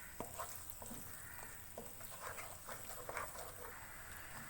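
Broken eggs stirred in a pan over a medium flame for anda ghotala, a soft scraping and light sizzle with a few brief clicks of the spoon against the pan, steady and close, with no talk.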